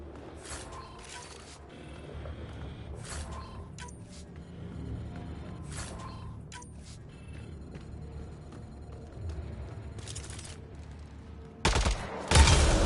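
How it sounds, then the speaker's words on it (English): Gunfire aimed at a Kett device in Mass Effect Andromeda, with bursts of rapid shots separated by pauses and a louder, heavier blast near the end. "Shooting the device will destroy it."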